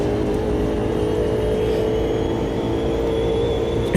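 Car engine in a sim racing video game, a steady close whirring engine drone with a thin high whine, holding constant throughout with no talk.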